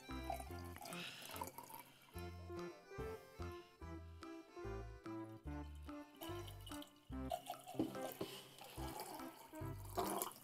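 Liquid pours steadily into a container at close range for about ten seconds, splashing and gurgling under loud background music with a few rhythmic interruptions.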